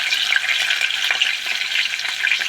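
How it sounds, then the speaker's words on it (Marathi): Cumin seeds crackle in hot oil for a tempering, with a dense, close sizzle full of rapid small pops and spits throughout, steady and fairly loud, with no talking. "जिरे पण तडकायला लागले आहेत"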